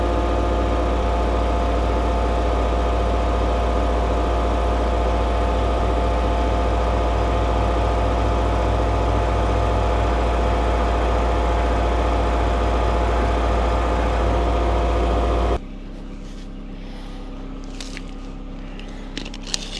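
Track loader engine idling, a loud steady low mechanical hum with fixed tonal bands and vibration that cuts off abruptly near the end, leaving quiet background.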